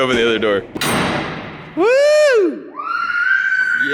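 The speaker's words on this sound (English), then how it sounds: "Let me open the other door." A large door is opened, giving a broad rumbling scrape just after a sharp knock. Loud excited voices and a squealing shout surround it.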